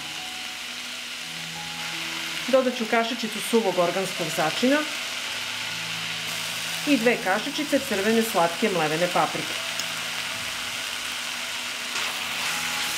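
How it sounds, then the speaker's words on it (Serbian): Cabbage frying in a pan with spices and ground sweet paprika, a steady sizzle broken by two bursts of scraping and stirring, while a voice talks over the cooking. "Sve ću ovo promešati i pržiti na nižoj temperaturi 30 minuta."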